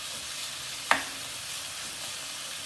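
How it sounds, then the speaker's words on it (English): Steak pieces for a Philly cheesesteak quesadilla brown in a hot pan with a faint, even hiss throughout, broken once near the start by a single sharp tick. "Now, we're going to go ahead and brown this very quickly."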